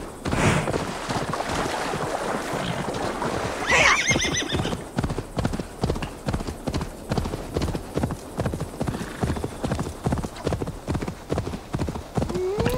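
In Assassin's Creed Valhalla, horse hooves clip-clop in a steady, close rhythm. A horse whinnies briefly early on.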